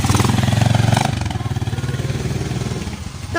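Motorcycle engine running on a rural provincial road, a steady mid-pitched throttle drone that holds loud and close for about three seconds, then eases slightly, with no talk over it.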